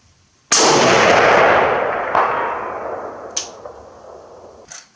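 A single sharp Springfield M21 rifle shot fired at a 400-yard target, loud and abrupt, followed by a long outdoor echo that fades over several seconds with faint clicks.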